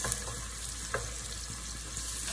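Garlic sizzles steadily in a hot pan for spicy chicken adobo, a continuous crackling hiss with a few soft clicks, loud and close, with no talking.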